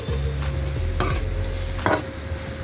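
Chili powder, garam masala and turmeric being sautéed in a pan for a Thalassery bread box filling: a steady close sizzle broken by a few sharp spatula scrapes and stirs, with no voices.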